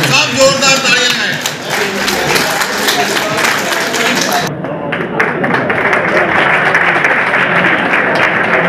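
Loud, sustained audience applause at a Prajapati Sabha celebration of Sant Gora Ji Maharaj's Parkash Utsav in Jammu, steady clapping throughout with voices mixed in and a slight dip midway.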